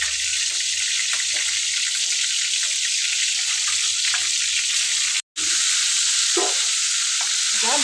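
Stuffed ridge gourds fry in oil for a curry, hissing in a loud, constant close-up sizzle, broken by one brief cut to silence and a few soft stirring knocks.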